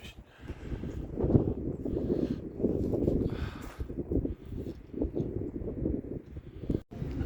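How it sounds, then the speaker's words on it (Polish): Steady gusting wind buffeting the microphone, a continuous low roar that swells and eases, fairly quiet overall. "Ale wiatr."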